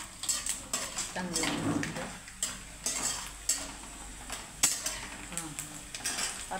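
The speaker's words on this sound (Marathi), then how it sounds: "हे असे एकदम खरपूस भाजून घ्यायचे शेंगदाणे." Peanuts roasting and being stirred in a pan on the stove, with a spoon scraping and knocking against the metal in irregular strokes over a faint sizzle, and someone briefly speaking.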